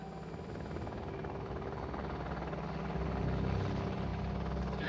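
A helicopter in flight during a French military assault, a continuous rotor drone that grows slightly louder toward the end, with no voices.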